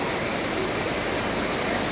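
Floodwater gushes steadily and loudly through a flooded street in Holy Spirit, Quezon City, as one continuous broadband roar with no voices.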